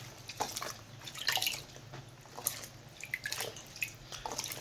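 Green onions are dunked and rinsed in a tub of kitchen water, producing soft, close, scattered splashes and dripping sounds that come and go irregularly, with no voices.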